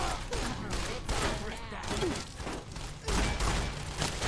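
SMG fire from enemies in the video game Fallout crackles in repeated rapid bursts, fairly quiet and somewhat distant, with someone talking over parts of it.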